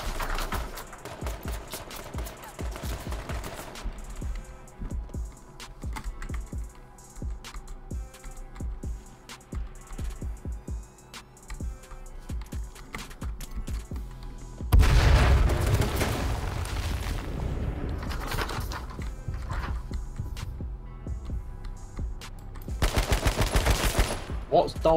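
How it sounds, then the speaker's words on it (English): Gunfire in the battle royale game H1Z1 comes as rapid bursts of automatic shots and heavy booms, loud at the start and again in the middle and near the end, with no voices. "My life, apparently, because I'm getting shot."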